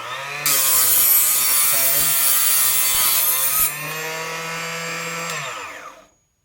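A saw blade cuts .223 brass cases for 300 Blackout conversion, giving a loud, high metallic whine that holds steady, shifts tone partway through, then spins down and stops.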